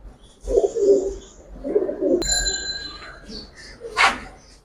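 Giribaz coloring pigeons coo in a few low, throaty bursts, close by and fairly loud, with a brief sharper call near the end and no talk.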